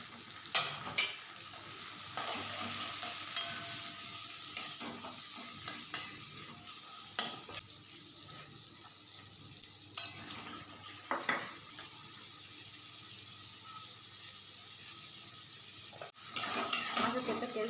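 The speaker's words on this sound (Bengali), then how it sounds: "মাছের তেলটা বসিয়ে দেবো, পাঁচফোড়ন দিলাম একটু, আর পেঁয়াজ আর রসুন দেবো।" Five-spice, onion and garlic fry in fish oil in a pan, giving a faint steady sizzle broken by soft scraping stirs and occasional clinks of a utensil, with no talking.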